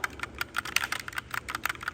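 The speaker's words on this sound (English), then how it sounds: "It's actually whisper quiet membrane keyboards." Steady, fairly fast keystrokes on an EWAEDN V20 retro typewriter-style membrane keyboard with round keys, soft muted taps in an even rhythm, close and alone.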